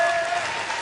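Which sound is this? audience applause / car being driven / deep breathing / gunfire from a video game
audience applause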